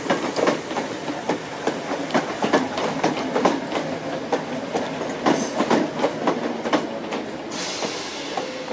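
A Class 321 electric multiple unit, 321308, rolls through Southend Victoria station on an empty stock movement from the sidings, with loud rhythmic clickety-clack of wheels over rail joints, close by and alone.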